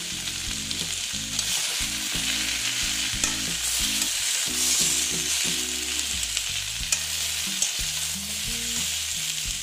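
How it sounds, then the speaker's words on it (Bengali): Potatoes fry in a pan for a Bengali jackfruit curry with a loud, continuous sizzle, while a utensil scrapes and stirs through it in repeated close strokes, with no voices. "আলুগুলো অল্প ভেজে নেব"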